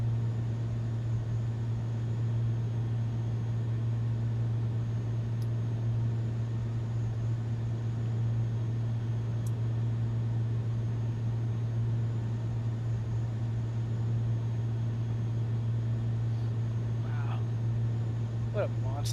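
A large airliner's engines in Microsoft Flight Simulator 2024 hold a steady, deep, even drone throughout, with a faint high whine above.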